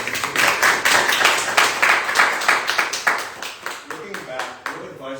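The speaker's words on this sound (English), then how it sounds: "Round of applause, man." Audience applause at a homebuying seminar, a steady wash of many hands clapping for several seconds that thins out toward the end, with a voice coming in over the fading claps.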